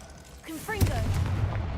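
A Confringo blast spell going off in Hogwarts Legacy: a sudden burst at mid-clip rumbling into a sustained low roar, with a voice speaking briefly before it.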